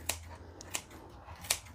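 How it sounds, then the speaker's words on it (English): Scissors snip through stripped fresh herbs for garlic bread, three crisp, quiet cuts spaced well apart over a low, steady background hum. "then you can just use scissors"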